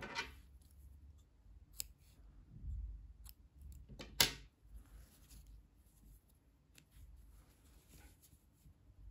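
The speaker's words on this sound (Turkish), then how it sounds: "İpliği kesiyorum." A few quiet snips of scissors cutting yarn during knitting, brief sharp clicks spread out over a soft background with no talking.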